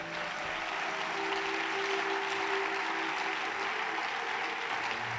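A church congregation breaks into steady, dense applause that fills the space evenly from start to finish, with a faint sustained tone beneath and no clear talk over it.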